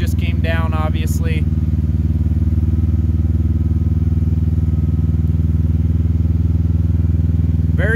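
A Kawasaki Teryx KRX 1000 engine brakes on a steep downhill, giving a steady, close, low droning hum throughout, with a brief voice near the start.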